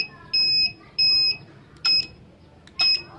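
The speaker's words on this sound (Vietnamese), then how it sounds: "khi mình bấm một lần nó kêu bíp bíp là chúng ta phải bấm trên remote liền chứ đừng đợi nó tắt nha" A mini remote motor reversing controller beeps during pairing, giving four loud, clear electronic tones: two longer beeps, then two shorter ones with clicks, with faint background hum and no talk.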